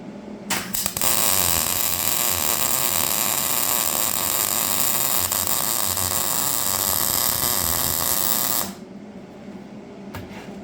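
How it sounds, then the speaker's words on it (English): A fillet weld is run on a Craftsman power lawn edger under repair: a loud, steady crackling buzz holds for about eight seconds, then stops, leaving low background hum. "we'll actually run another fillet weld through there"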